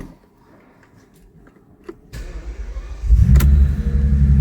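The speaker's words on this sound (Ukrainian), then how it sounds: "залили масло, запускаємо двигун" A quiet mechanical click and whir give way to a Bentley Continental GT engine cranking and firing up after an oil change, settling into a loud, steady idle rumble.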